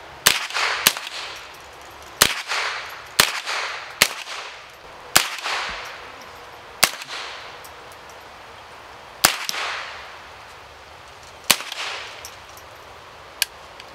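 Gunshots from a modern sporting rifle with a red dot sight at a training range: about ten sharp, loud reports fired one at a time at irregular intervals, each with a brief decaying echo.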